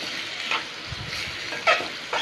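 Ingredients dropped into hot oil with already-browned onions for a chicken curry, sizzling steadily while being stirred, with a few sharp scraping clicks from the utensil and no voices.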